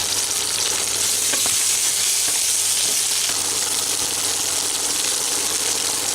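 Okra frying in hot oil, a dense, steady sizzle that is loud and continuous throughout, with a few faint stirring ticks.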